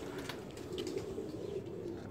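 An ailing pigeon cooing softly, with low, repeated throaty coos in a steady, murmuring rhythm, fairly faint and close, with no one talking.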